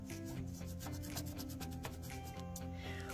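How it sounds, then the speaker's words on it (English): A crayon rubs over a leaf placed under paper, producing steady, close scratchy strokes in a continuous rhythmic back-and-forth, with no talking. "I'm going to rub the crayon over the leaf, and I'm going to make sure I find all edges of the leaf"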